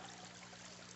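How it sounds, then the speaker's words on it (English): Water running around a 7-foot, 4-inch flagstone dive rock in a clear backyard pool, a steady close trickling and splashing flow with no voices. "We just got water running around it"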